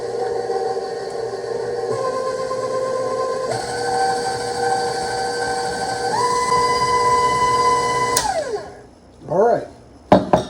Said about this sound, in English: I'm gonna mix these in, make sure the yolk busts.